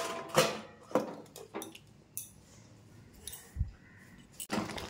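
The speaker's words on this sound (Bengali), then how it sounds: "আবার আমি ঢাকনা দিয়ে দেবো।" A lid is set onto a pot of homemade mango pickle, giving a few sharp metallic clinks and knocks at irregular moments, close by, with quiet pauses between them.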